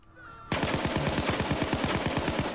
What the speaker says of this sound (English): Oh man, that's a lot of gunfire,